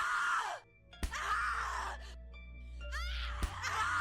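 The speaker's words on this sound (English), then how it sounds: "Scream your lungs out." A woman screams and wails in the horror video game The Cat Lady, with long anguished cries broken by sharp thuds and a low droning rumble beneath.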